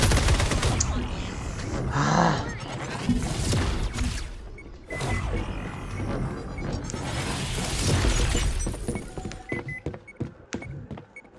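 Heavy bursts of automatic gunfire and impacts in the shooter game FragPunk, loud and continuous for most of the stretch, thinning into scattered sharp clicks and shots toward the end.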